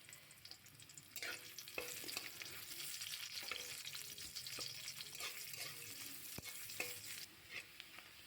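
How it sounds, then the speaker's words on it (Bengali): Sliced onion fries in hot mustard oil in a wok with dried red chilli and bay leaf, giving a soft, steady sizzle broken by the scrape and clatter of stirring. "পেঁয়াজটা একটু ভেজে নেব"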